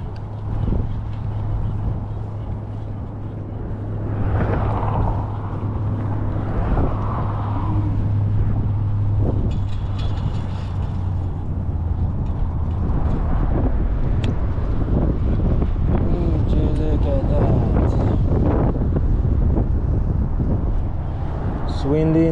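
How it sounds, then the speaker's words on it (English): Wind gusting into a microphone outdoors in Santa Clarita, a continuous low rumble with scattered louder buffets and a faint steady tone, with voices intermittently talking over it. "Windy in Santa Clarita."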